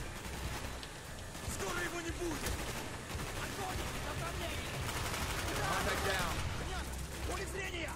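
Gunfire in Call of Duty Black Ops, a continuous rattle of automatic shots and distant bangs running throughout, with voices talking over the shooting.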